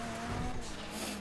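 A car in GTA Online revs under steady engine noise with a brief tire-squealing edge as it shifts gear; the sound is short and fairly loud, with no speech.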